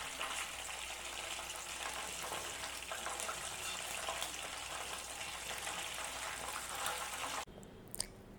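Pieces of quail fry in hot oil with a constant, crackling sizzle close by, ending abruptly with a brief clatter near the end.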